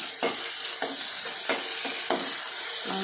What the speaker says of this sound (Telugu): మంచిగా పచ్చి వాసన పోయే వరకు వేయించాలి.